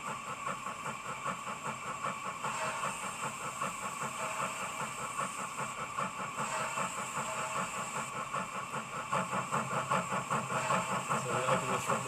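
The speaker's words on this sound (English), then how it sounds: "Get a nice soft chuff there." An ESU sound decoder on a model steam locomotive gives a soft, rhythmic chuff under a steady hiss, with the beat quickening and growing a little louder near the end.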